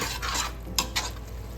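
A spoon stirs a thick mutton biryani mixture with pineapple and spices in a pot, giving a soft continuous sizzle and two short scraping strokes in the middle, close and without speech.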